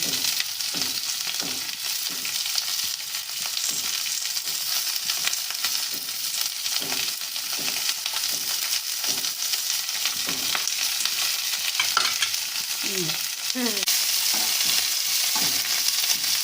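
Onion, garlic and split green chillies fry in a pan for a bean-mash dish, with a constant sizzle and repeated close spoon scrapes as they are stirred. A few louder clanks of utensils come near the end.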